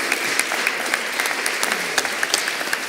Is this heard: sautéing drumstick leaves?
no